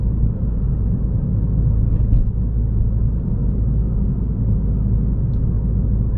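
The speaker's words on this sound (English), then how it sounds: "A little bit of road noise" Road noise inside a Peugeot 208 GTI being driven, a steady low rumble of tyres and engine filling the cabin, constant and fairly loud, with no talking.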